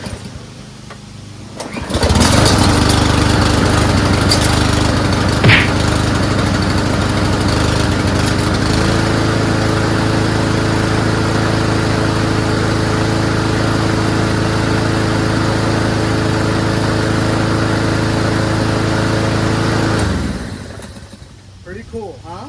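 A small gasoline engine taken from a rusted Cub Cadet riding mower and fitted to a Mighty-Mac wood chipper shredder starts up after a month of sitting. It settles into a loud, steady, droning run, then cuts off abruptly near the end.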